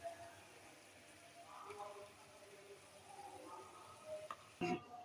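Egg korma simmering in a pan just after sweetened thickened milk is poured in, giving a soft, steady bubbling sizzle with a few louder stirring clatters near the end.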